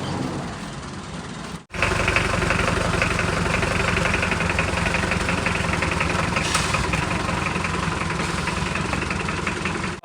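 A motorbike's engine idling nearby after a trip to be washed, a steady, loud mechanical chug with even vibration that holds for about eight seconds after a brief cut near the start.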